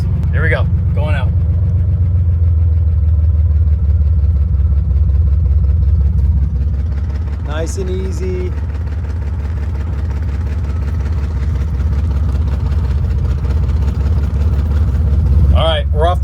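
A Chevrolet Corvair's engine drones low and steady while the car rolls off the clutch with no throttle, a loud close rumble with a voice speaking briefly over it.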